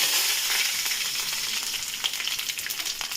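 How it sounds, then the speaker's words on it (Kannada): Mustard seeds and cumin seeds sizzle in hot oil over a medium flame, a close, steady crackling fry with sharp little pops scattered throughout. "ಮೀಡಿಯಮ್ ಫ್ಲೇಮಲ್ಲಿ ಇಟ್ಕೊಂಡ್ಬಿಟ್ಟು ಫಸ್ಟು ನಾನು ಸಾಸಿವೆ ಜೀರಿಗೆನ ಹಾಕ್ತಾಯಿದ್ದೀನಿ"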